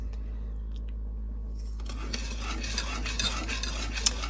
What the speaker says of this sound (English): I'm just going to fold in my chocolate chips here